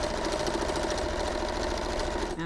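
A sewing machine stitches steadily through quilt binding on a finished piece, a rapid, even mechanical chatter running close and continuous until it stops abruptly at the end.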